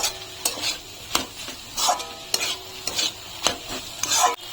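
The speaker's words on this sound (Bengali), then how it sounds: "এখন আমি এই ডিম ভাজাটা এর মধ্যে দিয়ে দেবো মুড়ো ভাজার মধ্যে তারপরে আবার ভালো করে নাড়িয়ে দেবো" Fried radish and fried egg being stirred in a pan: a steady sizzle broken by sharp, regular scrapes and clicks of a spatula against the metal, close and clear.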